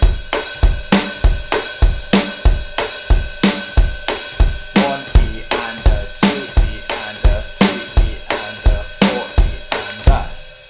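A drum kit plays a snare-led beat, with steady quarter-note snare hits and busy hi-hat sixteenths in between, an even, driving pulse, loud and close with no talk.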